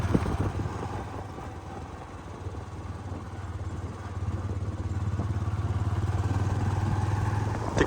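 Motorbike ridden out from a village, its engine droning steadily close by and building slightly in loudness as the ride goes on, with road rattle and no talk.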